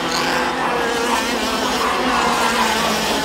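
IAME X30 junior racing karts, four running close together out of the final corner in a 2013 Masters Cup final, give a loud, sustained, buzzing engine drone that stays steady throughout with no clear break, with a commentator talking faintly underneath.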